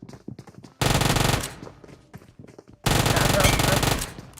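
Automatic gunfire in PUBG Mobile: two loud, sustained bursts of rapid shots, each lasting well over a second, with quieter scattered shots and voices between them.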